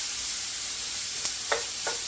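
Beef and broccoli sizzling in a hot pan, a steady bright frying hiss with a few brief utensil clicks and stirring scrapes near the end.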